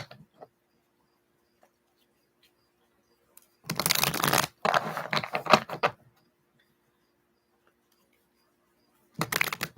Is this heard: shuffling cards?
yes